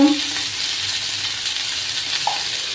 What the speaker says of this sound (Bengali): একটু আমি ভাজা ভাজা করে নেব